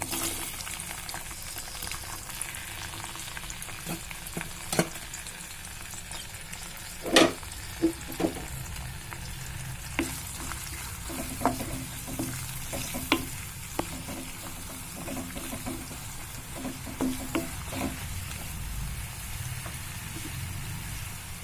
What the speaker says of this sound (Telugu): ఇందులోనే సన్నగా తరిగిన ఉల్లిపాయ ముక్కలు పచ్చిమిర్చి ముక్కలు కూడా వేసుకున్నాం